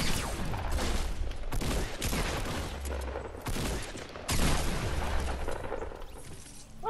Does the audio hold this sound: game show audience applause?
no